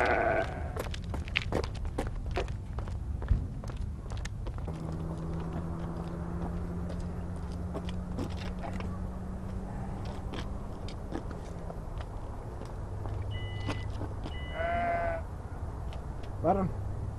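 Sheep bleat in short wavering calls, near and clear, amid farmyard noise, chewing sounds and people talking.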